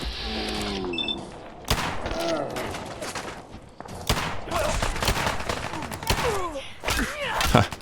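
Gunfire from Gunners in Fallout 4 comes as scattered rapid shots and impacts in irregular bursts, mixed with game sound effects and voices talking over the fighting.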